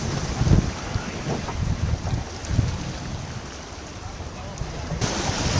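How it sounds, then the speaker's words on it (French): Sea swell washing onto the rocks beside a harbour jetty on a slipway by a fishing shelter, a steady broadband rush with surges of water, buffeted by wind noise on the microphone throughout. "un peu de houle sur les rochers"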